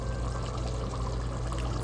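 Water pours steadily into a big pot for cooking basmati rice for a Nellore-style mutton biryani, a loud, continuous close splashing rush with no pauses.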